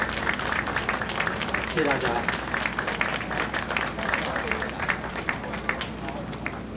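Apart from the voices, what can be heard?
audience applause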